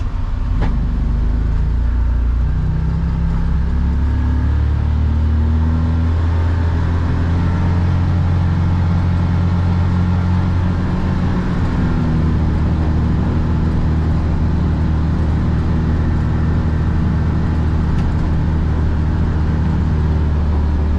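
A Can-Am Defender UTV on 35-inch tires runs with a loud, steady low engine drone that holds near its top RPM throughout, with no voices.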